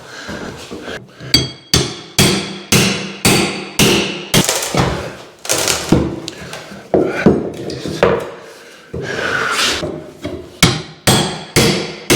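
Nails and wood being pried off a joist during an electrical rewire, a rapid series of sharp cracking, banging and splintering impacts, loud and close, with short pauses between bursts.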